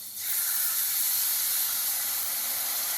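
Lamb chops sizzle in a hot skillet with gravy, a steady broad frying hiss that swells in within the first half second and holds loud and even to the end, with no talking.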